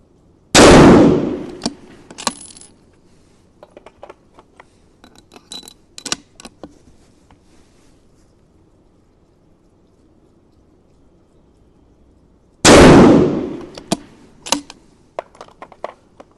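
Two loud, close rifle shots fired during a target shooting test with reloaded brass ammunition, about twelve seconds apart. Each blast is followed by faint clicks and mechanical handling noises in between.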